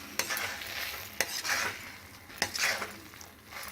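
A spoon stirs a khoya kheer mixture for papaya barfi in a pan on the stove, scraping and sizzling softly, with a few sharp taps against the pan.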